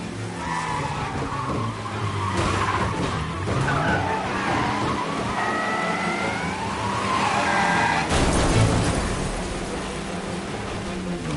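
Car tires skid and squeal in Mafia Definitive Edition, a wavering screech over engine roar that runs for several seconds before a sharp jolt near the end, loud and close.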